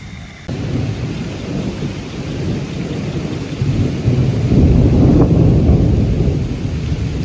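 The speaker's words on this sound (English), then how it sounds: "We got some storm close, so we're gonna have to head in soon." Heavy thunderstorm outdoors during gold panning in play sand, with deep rolling thunder rumbling continuously close by under steady rain, swelling louder toward the end.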